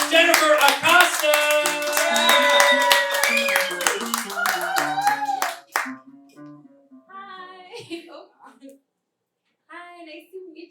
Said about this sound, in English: I want to get the round of applause going